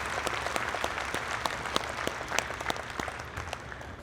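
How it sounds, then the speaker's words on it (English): Crowd applause at a Jersey dairy cow show, saluting the senior cows in an afternoon show ring; dense, steady clapping from a sizeable audience, fairly even throughout with scattered sharper claps standing out. "let's give a great round of applause for the senior cows out here this afternoon."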